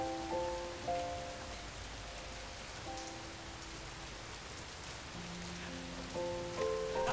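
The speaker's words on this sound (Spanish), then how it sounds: "La lluvia." Rain falls steadily on a surface, a soft, continuous patter with scattered drops, while faint tonal notes drift in the background.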